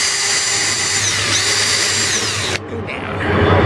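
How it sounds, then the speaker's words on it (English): A power drill bores holes for the bridge of an Esquire-style electric guitar body, a loud steady whine that runs continuously, then drops abruptly as the bit breaks through and the motor spins on. "I'm going to drill the bridge holes right now."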